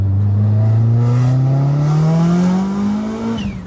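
A 469 hp Mitsubishi Evo 9 Wagon engine pulls hard at full throttle, a loud steady drone rising in pitch over about three seconds before easing off, heard from close by inside the car.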